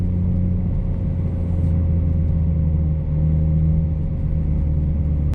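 A 2025 BMW M4 Competition xDrive coupe on the move, its engine giving a steady, loud low drone with a constant hum, no talking, ending in an abrupt cut.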